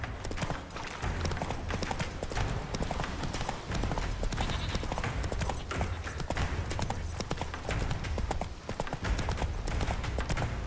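Roach, the horse in the video game Witcher 3, galloping in a rapid, steady drumming of hooves under game ambience, close and continuous for the whole stretch.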